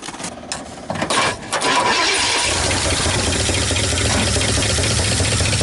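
A 1959 Ford Fairlane 500 Galaxie, restarted after more than 20 years off the road: a brief rough cranking stutter, then the engine catches and settles into a loud, steady, close-up running roar, with no speech.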